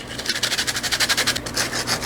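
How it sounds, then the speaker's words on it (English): Light hand sanding of a craft figure: quick, rhythmic rubbing strokes of sandpaper, close and steady, repeated back and forth for a couple of seconds. "So I'm going to give him a light sanding"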